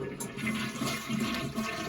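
A household toilet flushes after the water supply has been shut off during a tank repair, a steady close rushing of water that fills the whole short stretch at even loudness.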